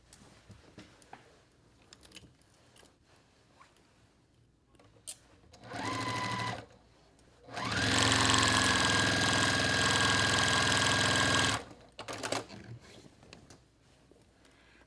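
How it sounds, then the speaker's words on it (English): A sewing machine stitching a quilt seam, running in a short burst and then a longer steady whirring run, with quieter handling noises between. "Okay, sew the seam."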